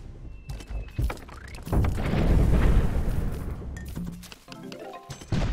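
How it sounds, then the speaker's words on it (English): Cannons fire in the video game Cannon Brawl as repeated heavy thunks and booms, with a long rumbling crash building in the middle and sharper impacts before and after. "That's a lot of cannons."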